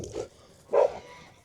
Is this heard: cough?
no